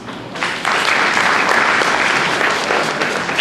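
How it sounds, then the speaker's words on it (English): Audience applause at an investment seminar, a dense steady wash of clapping that swells in after a brief quiet start and holds loud and close throughout. "give him a big round of applause."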